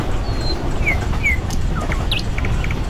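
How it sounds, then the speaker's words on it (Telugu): Ambient birdsong in a train simulator game on a Goa–Karnataka route, a koel calling among short chirps and whistled notes over a steady low rumble. "ఆ కోయిల"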